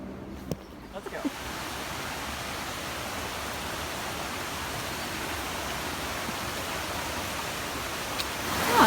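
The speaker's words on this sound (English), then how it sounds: "there is our waterfall" A waterfall on a hiking trail in Kauai, Hawaii, roars as a steady broadband rush that fills the scene, loud and continuous after a few brief knocks at the start.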